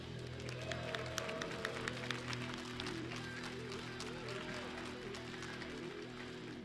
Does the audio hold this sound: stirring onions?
no